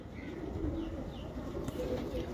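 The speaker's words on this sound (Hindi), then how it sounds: "ये वैशी कबूतर है जी, प्योर वैशी" A pure Vaishi pigeon cooing softly, low repeated coos under a steady background hum, close but faint, without talk.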